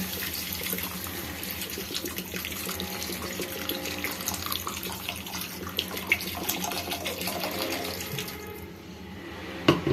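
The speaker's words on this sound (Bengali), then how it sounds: "জলটা একটু বেশি পরিমাণে দেবেন যেহেতু এটা স্যুপ হবে।" Water poured steadily into a cooking pot while making mushroom and vegetable soup, a continuous close splashing rush that runs for several seconds before tapering off near the end.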